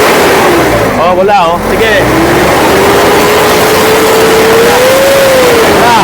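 A 4x4 with a non-working turbo, now running naturally aspirated, revs up loudly at close range, its engine pitch climbing and holding steady while someone speaks briefly over it.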